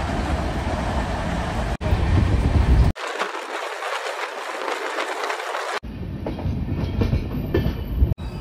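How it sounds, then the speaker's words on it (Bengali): Passenger train running non-stop toward Asansol on a Kolkata to Prayagraj journey, heard from inside: a steady loud rumble and rattle of the carriages with clickety-clack and brief abrupt shifts in the noise, no talking. "নন স্টপ চলবে আসানসোল পর্যন্ত আমাদের ট্রেন।"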